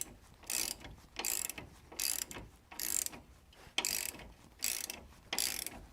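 Ratchet torque wrench tightening leaf spring bolts on a vehicle: bursts of rapid clicking ratchet strokes repeating in a steady rhythm about once a second, close and clear with short pauses between pulls and no talking.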